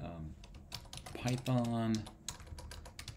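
Computer keyboard typing, quick light key clicks in an irregular patter, close up, with someone speaking over them.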